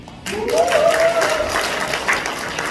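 Audience applause breaks out during a political lecture at a forum launch event in Gumi, starting abruptly after a short quiet and holding steady, with a brief raised voice sounding over the clapping early on.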